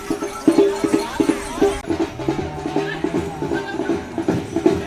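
Bullocks walking in a Bail Pola festival procession through a village lane in Salegaon, heading to the Mahadev temple; hooves and bells patter in an irregular rhythm amid crowd noise and faint voices.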